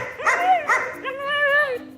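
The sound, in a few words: puppies barking during bite work training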